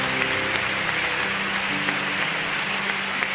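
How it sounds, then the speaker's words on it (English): An audience claps steadily throughout, a dense wash of applause from a sizeable church crowd with no talking. "Please give Cynthia a big clap"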